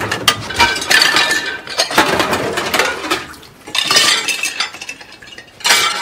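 Dishes and cutlery washed by hand, with bursts of clinking plates, clattering utensils and running water in uneven clusters, loud and close, pausing briefly between handfuls.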